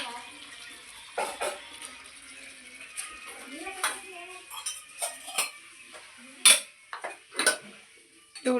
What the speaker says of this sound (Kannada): ಪಾತ್ರೆ ಹೊಡ್ಬಿಟ್ಟು ಬತ್ತವ್ರಿ ಈಗ ಒಳಗಡೆ